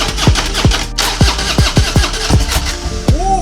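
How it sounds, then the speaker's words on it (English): A Harley-Davidson motorcycle engine being cranked repeatedly in a series of sharp turning-over bursts, close and loud, until it coughs to life near the end after a cold spell of sitting unused. "that was the most difficult it's ever been to start this Harley"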